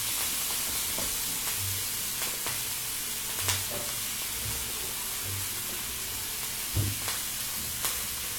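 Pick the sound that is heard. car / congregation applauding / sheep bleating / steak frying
steak frying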